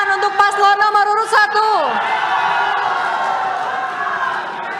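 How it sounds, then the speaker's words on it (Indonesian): Supporters in a hall during a 2024 regional election public debate in Parigi Moutong erupt after a few loud tonal shouts, swelling into a sustained, roaring wash of cheering and clapping that stays loud to the end. "Pendukung paslon nomor urut 1 silakan tepuk tangan untuk paslon nomor urut"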